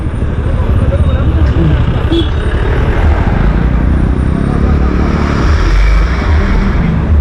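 Heavy road traffic in a jam on the road from Chennai to Ooty, with buses and trucks. Engines rumble loud and steady, forming a dense wash of motor noise close by.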